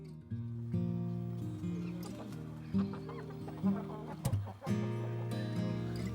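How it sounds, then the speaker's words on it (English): Hens cluck in short bursts over a low steady hum, the calls close and moderately loud, with a couple of sharper squawks. "The hens and the duck seem to all hang out together."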